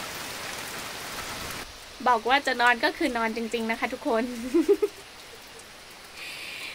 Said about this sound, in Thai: ฝนตกบรรยากาศดีนะคะ อากาศเย็นสบายนะคะ